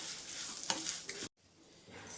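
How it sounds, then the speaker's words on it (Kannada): Grated coconut and curry leaves sizzle and rustle as they are stirred in a pan, with a short scraping burst before a pause and softer frying resuming. "ಒಂದು ಸ್ವಲ್ಪ ತೆಂಗಿನಕಾಯಿ, ಕರಿಬೇವು ಹುರ್ಕೊತೀನಿ."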